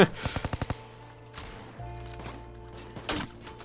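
Bursts of automatic gunfire in the heist shooter Payday 2, a rapid string of sharp shots at the start, then scattered single cracks and a louder late burst over steady game ambience.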